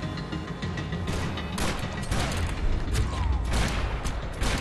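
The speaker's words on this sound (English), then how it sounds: "I'm gonna use a revolver" Revolver gunfire from the Max Payne 3 video game, with dense game combat noise and repeated sharp bangs running steadily through, loud and busy throughout.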